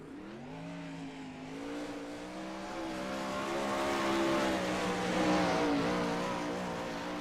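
A No Limit sprint car, number 24, heading out onto the Charlotte track for qualifying, its engine droning steadily and growing gradually louder as it pulls away and picks up speed.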